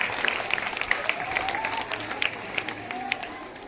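Steady clapping from a gathered audience welcoming a guest at a school farewell ceremony at U.M.S. Kasaha, Barauni, Begusarai, continuous and moderately loud with faint background voices.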